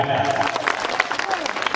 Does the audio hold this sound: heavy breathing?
no